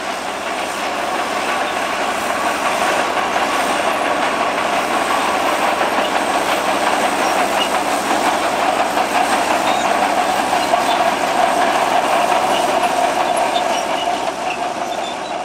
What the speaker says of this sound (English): Nottinghamshire farmer Robert Wilson does all of his ploughing with this unique 17-furrow conventional plough pulled by a D9D crawler